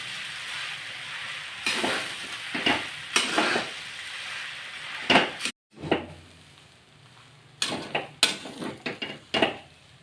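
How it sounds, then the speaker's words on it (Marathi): Sushila, a puffed rice breakfast dish, is sautéed in a pan, with repeated spatula scrapes and tosses in irregular bursts over a quiet sizzle, one abrupt silent gap midway. "आणि हे 1-2 मिनिटं परतून घेऊया."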